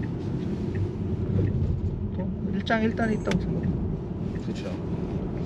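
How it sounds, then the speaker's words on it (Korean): Steady low rumble of tires rolling on the road inside a quiet Tesla Model 3 Performance electric car, while a person briefly speaks over it. "타이어 소리만 나네."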